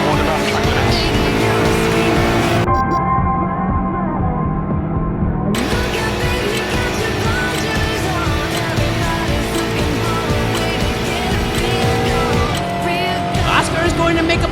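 A BMW and a Porsche Cayman race car running side by side in an iRacing sim race, engines roaring loudly with tire squeal and skidding throughout, the roar dipping briefly midway.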